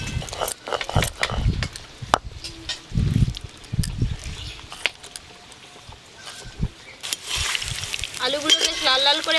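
Mixed vegetable and prawn fritters fry in hot oil, a crackling sizzle broken by scraping stirs and clinks of a utensil against the pan, close and lively, growing busier toward the end.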